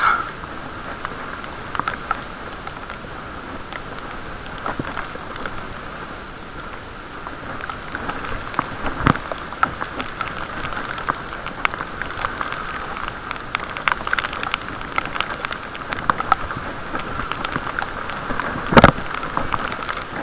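Steady rain patters on a surface during a bike ride, with scattered sharper drops tapping close by over a constant hiss.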